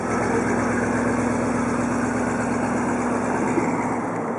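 A 1957 Plymouth Belvedere engine idles steadily with a low, even rumble and a slight rhythmic pulse, continuous and close, with no voices.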